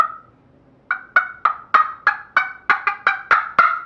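A series of about ten sharp, clipped turkey clucks from a scratch box call, evenly spaced after a short pause, close and fairly loud.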